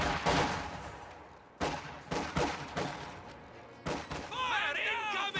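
An MG34 machine gun fires in a war video game, delivering several loud bursts of rapid shots separated by short gaps, with game voices and chirping effects overlapping the later bursts.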